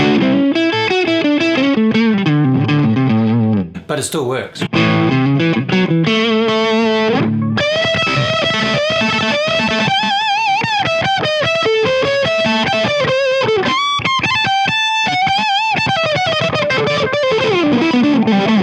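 An electric guitar is played through a Boss DS-1 distortion pedal, loud and saturated, with sustained chords and melodic lines running almost continuously and one brief dip partway through. A voice speaks briefly.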